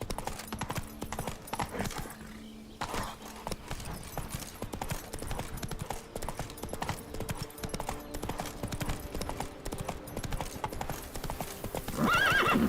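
Rapid steady clip-clop of the horse Roach galloping across ground in The Witcher 3, continuous hoofbeats with a whinny near the end, fairly close under light game ambience.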